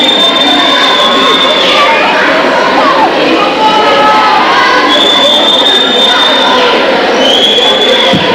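A crowd at a 1980s high school basketball game cheers and shouts loudly throughout, with whistle-like tones and a commentator talking over the noise.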